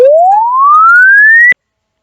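A computer program plays a synthesized pure tone at an 8 kHz sampling rate that sweeps smoothly upward in pitch for about one and a half seconds and then cuts off abruptly. It is loud and clean, with no talking.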